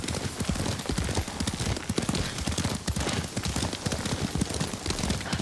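Horse hooves clip-clop at a steady gallop beneath a rider in the samurai game Ghost of Tsushima, a dense, continuous drumming of footfalls close up with brief bits of ambient noise and no talk.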